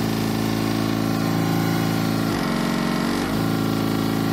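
An electric motor drives a pump, running with a steady loud hum and whine close by, and its pitch briefly dips and wavers partway through before it settles again.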